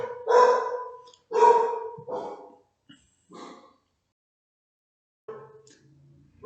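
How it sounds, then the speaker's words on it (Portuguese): A pet dog barks indoors, giving several loud, close barks in quick succession, then a pause and a final softer bark or yip. "Meu cachorro tá latindo um pouco"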